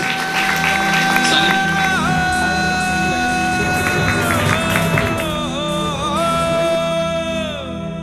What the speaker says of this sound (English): can we have a huge round of applause for all you guys?